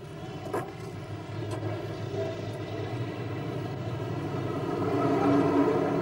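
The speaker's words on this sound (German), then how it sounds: "Dann läuft er ein. Der letzte Zug unserer Reise durch Japan." A train pulls into a station in Japan, a low rumbling drone with steady harmonic hum that grows gradually louder as it approaches, with a few faint clanks early on.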